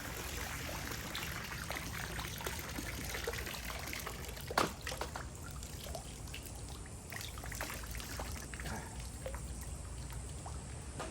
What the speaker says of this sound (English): See how the water's draining out?